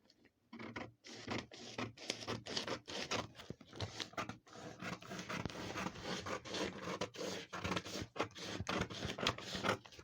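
Scissors snipping through a paper skirt-bodice pattern to cut out a dart, a steady run of close, crisp cuts and rustling paper strokes filling the whole stretch with no talking.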